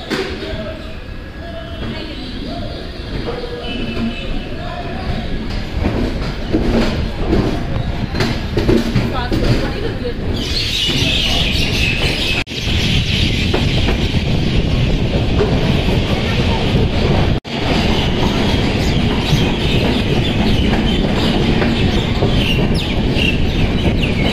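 The Jammu Mail express train runs along the track with a loud, continuous rumble, rattle and clatter heard from inside, rising in intensity partway through with a few sharp jolts.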